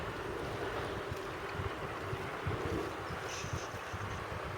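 Strong wind buffeting outdoors near water during a bass fishing outing, a steady loud rushing roar with gusty low-frequency thumps against the microphone throughout; no talking.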